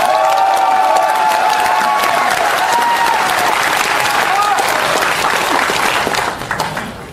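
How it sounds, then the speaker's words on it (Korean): Loud applause and cheering from a crowd at a Gangwon political rally honoring soldiers and military families, a dense continuous wall of clapping with scattered shouts and whistles that fades near the end. "힘찬 함성과 박수"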